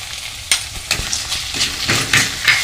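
Onion and tomato frying in a pan for street-style anda bhurji hiss loudly up close, broken by repeated scraping stirs of a spatula at an irregular rhythm.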